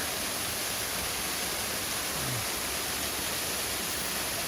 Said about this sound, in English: this is the last waterfall you come across